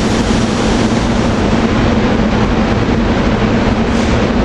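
Commuter trains with rail cars rolling into 30th Street Station at rush hour, a loud, steady, close rumble with a constant low hum and no pauses.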